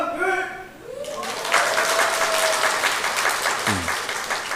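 At Gungpyeong Methodist Church's Sunday morning service, someone speaks briefly before the congregation breaks into sustained applause for a soldier, a dense crowd of clapping that carries on to the end.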